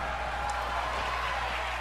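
Wrestling arena crowd in the WWE 2K22 video game, a steady loud roar and cheer of a large audience that stays constant throughout, with a low hum underneath.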